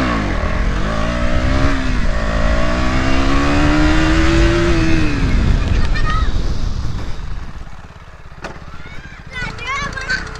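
A motorcycle engine revs loud and close during a first wheelie test, its pitch rising then tapering off, with voices and shouting over it and a few sharp knocks near the end.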